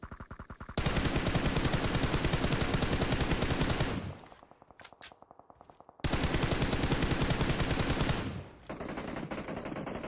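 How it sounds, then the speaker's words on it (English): Rapid automatic gunfire in PUBG Mobile, two long sustained bursts of fast, evenly spaced shots separated by a brief lull of scattered fire, loud and close. "Action with some shots."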